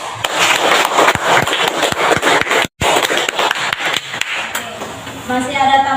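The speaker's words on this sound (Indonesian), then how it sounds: "Nah, kita tepuk tangan buat kelompok 5." Classroom clapping for a student group, a run of sharp, uneven claps close by, briefly cut off midway, then continuing with a voice talking near the end.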